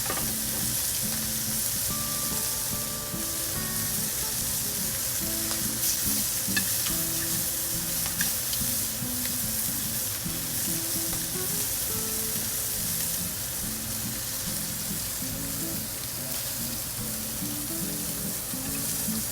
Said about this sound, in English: Push the oil around. That helps the scallops to make sure they cook evenly.